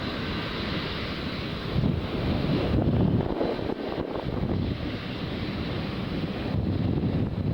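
Steady wind buffets the microphone on a blustery day at an aircraft arrivals event, a continuous low rumbling roar with brief gusty swells and no voices.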